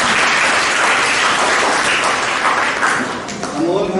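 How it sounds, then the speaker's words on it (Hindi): An audience applauds to welcome a guest at a gathering in Hanumangarh, with dense, steady clapping that stays loud and continuous throughout. "तालियों से स्वागत करें"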